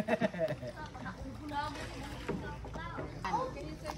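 Small three-person boats being paddled on an open lagoon in Siargao, Philippines, soft splashes and water sloshing close by, with people talking and calling out over it.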